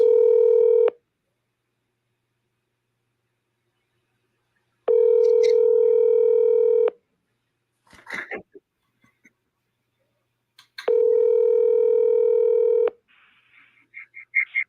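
Touch-tone dialing on a telephone during a sales call: three long steady dial-tone stretches broken by short bursts of keypad beeps and faint clicks, with brief quiet gaps between.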